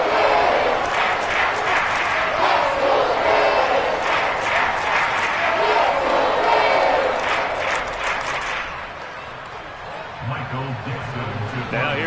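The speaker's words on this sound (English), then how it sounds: "Plenty of shouts from this crowd as they watch the replay." Stadium crowd at a Bears vs. Seahawks football game shouting loudly and continuously during a replay, a dense roar that eases slightly near the end, with a voice coming in underneath.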